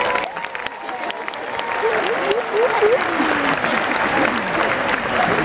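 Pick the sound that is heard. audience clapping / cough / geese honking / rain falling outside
audience clapping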